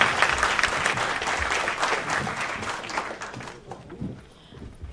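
A conference audience applauds the panel hosts at an opening session, dense sustained clapping that fades out after about three and a half seconds into quiet room noise.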